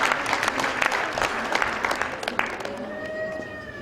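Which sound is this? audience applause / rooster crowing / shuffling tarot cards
audience applause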